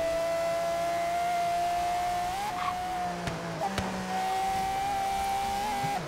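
A car engine races in the Forza Horizon 3 video game, holding a steady, loud drone that dips briefly and climbs again, with a few sharp clicks and faint tire noise.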